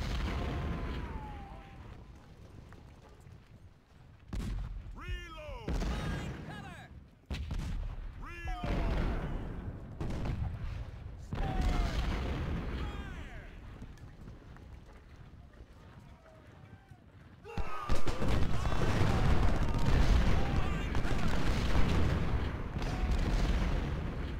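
Booming artillery and crackling gunfire from a Civil War battle in Ultimate General: Civil War rumble continuously, swelling louder near the end, while people talk over the din.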